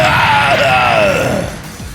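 A loud, strained, screeching yell from the Elder God Poseidon as he is struck in the ribs, sliding downward in pitch and then fading into a rough groan.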